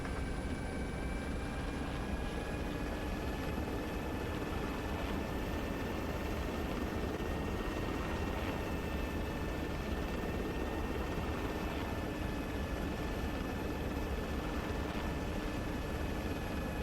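Helicopter lifting off in the Arma 3 video game, a steady loud rotor and turbine drone with a high whine, holding constant for the whole stretch with no voices.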